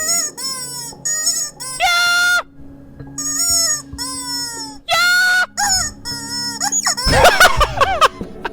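A rubber chicken toy squawks in a rapid series of shrill, honking squeals of varying pitch, used to steer a voice-controlled song game, loud and close, ending in a chaotic flurry.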